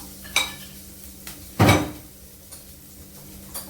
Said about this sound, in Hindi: अब इसको हल्का लाइट ब्राउन होने तक भूनेंगे